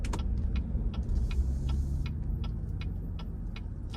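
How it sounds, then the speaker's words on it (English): A car's turn-signal blinker ticks in a steady, even rhythm inside the cabin, about two clicks per second, over the low rumble of the engine and road while driving on a town's one-way streets. "Sorry about all the blinker noise, but there's a lot of turning around here."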